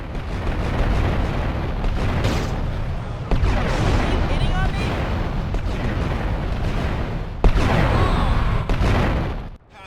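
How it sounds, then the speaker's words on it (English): Huge bomb blast in a tunnel beneath Fort Staunton in a 3D-era Grand Theft Auto game: a dense, roaring rumble that swells with sudden fresh bursts partway through, loud and sustained before tailing off. "causes an almighty explosion"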